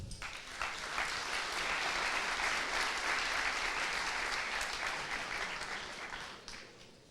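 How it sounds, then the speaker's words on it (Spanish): A conference audience gives a loud, dense round of applause welcoming a speaker on stage, rising quickly, holding steady for several seconds and tapering off at the end. "Recibamos al señor Moller con un fuerte aplauso"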